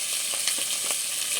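Two small dried red chilies crackle and sizzle in hot oil in a wok, a steady close hiss with scattered pops throughout, no voices.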